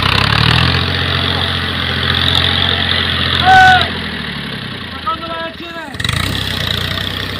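A tractor engine idling nearby with a steady, loud mechanical rumble throughout, while people talk over it.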